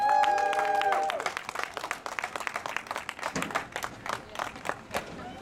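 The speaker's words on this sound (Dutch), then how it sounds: "Dus ik wil graag een applaus voor Joost Smeets." A crowd claps at an outdoor demonstration on the Spuiplein in The Hague, scattered, moderately close applause that follows a brief tone and continues unevenly with some background voices.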